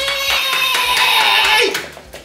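A small group at home claps briefly and closely, a few hands patting in a quick burst that fades out within a couple of seconds.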